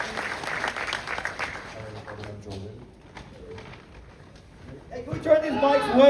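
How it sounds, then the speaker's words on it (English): An audience at a convention panel at San Diego Comic-Con claps in the opening seconds, a moderate wash of applause that fades as voices and room chatter take over. "round of applause"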